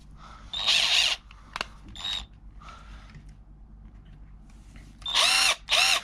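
A cordless impact driver, an Iris Ohyama JID80 with variable speed control, whirs in short bursts with a high whine, pausing between runs, then two louder bursts near the end, close by.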